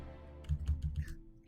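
Quick clatter of typing on a computer keyboard, four or five close, distinct keystrokes in a short burst over a quiet room hum, with no talking.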